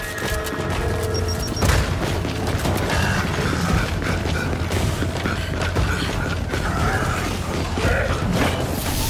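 A video game blast goes off amid the battle noise of Gears 5 in Hivebusters mode, a heavy boom sitting in steady mechanical clatter and rumble with scattered creaks and gunfire-like bursts, loud and continuous throughout.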